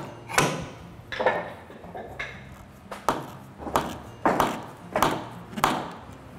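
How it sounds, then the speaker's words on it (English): A wooden boat plank being bent into place gives seven loud, separate creaks and thuds at a slow, irregular pace, close by in a quiet workshop setting. "Now we'll hear some creaking."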